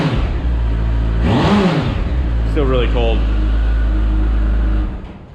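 A 2021 Kawasaki ZX14R motorcycle with its stock exhaust idles indoors with a loud low drone, then one quick rev swells and falls; a person speaks briefly over it before the engine cuts off.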